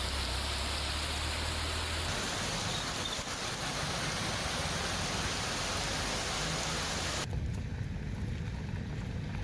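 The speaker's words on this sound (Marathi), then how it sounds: "आज पहाटेपासूनच अधूनमधून पावसाच्या सरी कोसळत आहेत" Rain showers falling over Raigad, where rice fields lie, as a steady broadband hiss of rainfall at moderate distance that stays even throughout, then turns noticeably duller and softer near the end.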